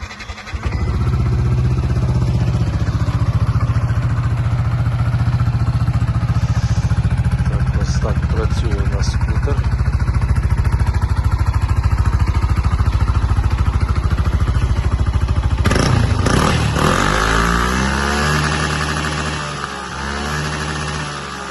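A Yamaha NMax 155 fuel-injected, liquid-cooled scooter with about 19,000 km on it idles steadily and fairly close, with a smooth, moderate hum. Its note shifts and rises toward the end.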